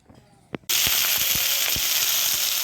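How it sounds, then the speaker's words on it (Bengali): Panch phoron and dried red chillies dropped into hot oil: after a faint tap, a loud sizzle bursts on suddenly and keeps going, with a few small pops and crackles running through it. "পাঁচফোড়ন, শুকনো লঙ্কা ফোড়নে দিলাম"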